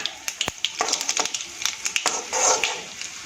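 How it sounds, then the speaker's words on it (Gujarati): Urad dal frying in hot oil for South Indian lemon rice, giving a steady close crackle with sharp pops and bursts of sizzling throughout, no voices. "તેલમાં સારી રીતે ફ્રાય થવા દઈશું"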